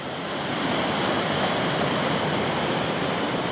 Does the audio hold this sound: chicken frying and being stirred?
no